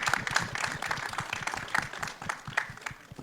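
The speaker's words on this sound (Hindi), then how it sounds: "जोरदार तालियां बजाओ, थोड़ी और बजाओ, बजाते रहो" Audience applause at a film trailer launch event for Heer Express, steady dense clapping from a crowd lasting throughout, moderately loud with no voices over it.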